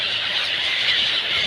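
Ibis birds calling near the seashore, producing a dense, continuous chorus of high squealing cries that stays fairly loud and steady throughout with no speech.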